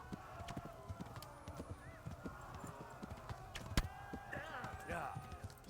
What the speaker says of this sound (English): Will this horse go any faster?